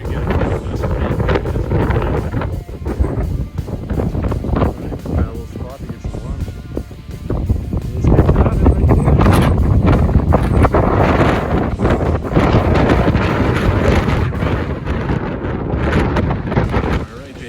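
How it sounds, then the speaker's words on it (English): Strong hurricane-force wind buffets the microphone on an exposed mountain summit in Baxter State Park, roaring in loud, uneven gusts that swell louder midway, with people talking underneath. "It's very windy and cold."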